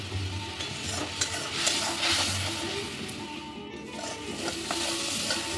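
Spice paste for a hilsa fish curry with chili sizzles and fries steadily in a pan as it is stirred and scraped, giving continuous close crackling with occasional utensil knocks and no talking.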